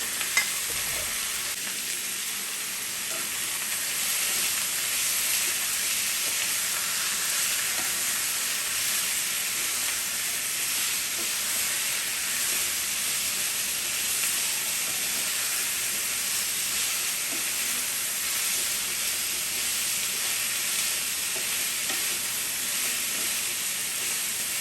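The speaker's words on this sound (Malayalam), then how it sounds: "ചിക്കൻ ഇട്ട് കൊടുക്കാം." Chicken pieces frying in a hot pan give a loud, steady sizzle and hiss that starts after a brief clatter and carries on unbroken for over twenty seconds.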